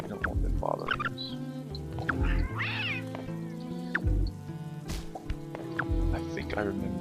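Kitten-bunny creatures in the video game Braid let out repeated cat-like meows over a layered game music track, with short bursts scattered through the scene.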